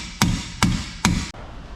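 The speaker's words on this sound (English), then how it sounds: "they had a method of hammering it like this with the pry bar" Three sharp metallic hammer blows struck with a pry bar against a rear suspension part on a 2005 Mustang GT, evenly spaced about half a second apart, close and loud, each with a short ringing decay, no voices.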